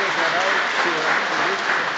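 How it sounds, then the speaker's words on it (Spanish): Applause from an audience at a cultural talk, a steady wash of clapping with voices audible underneath throughout. "también se merece un fuerte aplauso"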